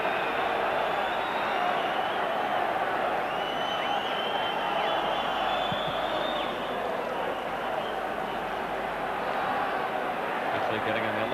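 Capacity crowd at Ibrox stadium for a Rangers versus Celtic football match, a dense continuous roar of voices filling the background steadily, with a commentator talking over it.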